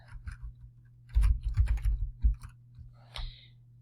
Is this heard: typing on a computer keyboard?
yes